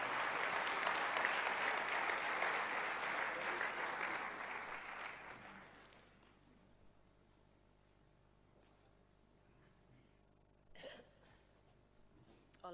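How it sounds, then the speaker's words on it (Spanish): Loud crowd applause at an anniversary gathering welcoming speakers to the front, sustained for several seconds then fading to near silence, with a few faint scattered sounds afterward. "mientras vienen podemos recibirles con un aplauso"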